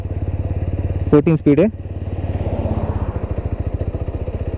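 TVS Apache RTR 200 4V motorcycle riding in second gear, a loud close steady engine thrum with rapid pulsing firing beats, briefly under a man's spoken words.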